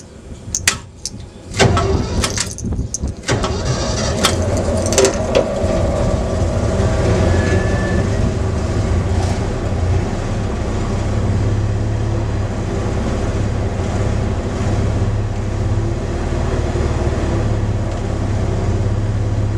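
A 1977 Superior/Ford B-700 bus engine with a Holley carburetor leaking at the float bowl cranks with a few sharp bursts, then settles into a steady, loud, rumbling idle that runs on continuously.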